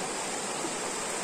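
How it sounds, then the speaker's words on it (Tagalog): Brown, silty river water rushing steadily in a continuous loud broadband wash, with no voices over it. "tubig dito sa ilog."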